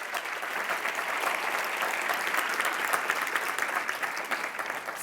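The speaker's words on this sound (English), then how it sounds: "please give them another round of applause" An audience at an EU agency showcase event applauds its panelists with sustained, full clapping from many hands, steady and even for the whole stretch.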